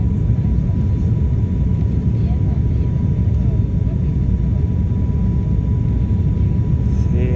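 Cabin of a Voepass ATR 72-500 turboprop on landing approach to Congonhas airport in São Paulo: a steady, loud, broadband engine and airflow roar that holds constant throughout with no clear breaks.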